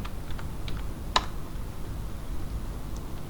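A computer keyboard being typed on, a few light scattered keystroke clicks with one sharper tap, quiet and close over a steady background hiss.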